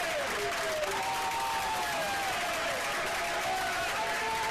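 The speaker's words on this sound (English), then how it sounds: "Maybe the slow clap threw him off." Tennis spectators at a college men's match between Baylor and Texas clap at a slow, measured pace, the applause soft and somewhat distant beneath a steady tonal background hum.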